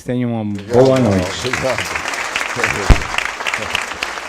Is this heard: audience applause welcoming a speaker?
yes